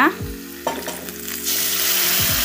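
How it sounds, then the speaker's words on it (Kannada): Curry leaves sputter and crackle loudly in hot oil in a pan, then cooked dal is added, with sharp stirring scrapes and a strong, sustained sizzle, no talking. "ಒಂದು ಸ್ವಲ್ಪ ಕರಿಬೇವು ಫ್ರೈ ಮಾಡ್ಕೊಳ್ಳೋಣ"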